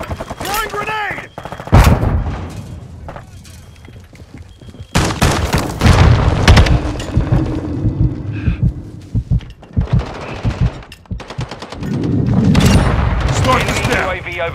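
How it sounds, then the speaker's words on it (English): Explosions and gunfire from a Call of Duty: Modern Warfare 2 Team Deathmatch match: loud bursts and rattling shots, with a heavy boom in the middle and further blasts near the end, while people shout over the combat. "Throwing grenade!"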